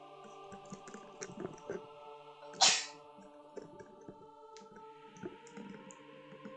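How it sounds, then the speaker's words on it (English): A single brief, sharp sneeze bursts out once, close and fairly loud, over quiet background game music and soft clicking during a strategy game session. "Sorry, had to sneeze."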